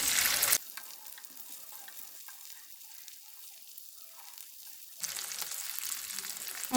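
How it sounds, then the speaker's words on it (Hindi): Chicken pieces frying in a pan over a low flame, a soft sizzle that is loud at first, drops to a faint hiss in the middle, then swells again after the pieces are flipped, no talking. "इसको ना अभी हमें दोनों तरफ से अच्छे से फ्राई करके लेना है"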